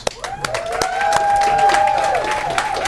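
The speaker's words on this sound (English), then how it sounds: "So please, a round of applause for a good friend of Tony's and mine, Mr. Chris Phillips." A studio audience on a talk show claps as a guest is welcomed. The applause is scattered, with sharp claps over a sustained musical tone, and fairly close and moderately loud.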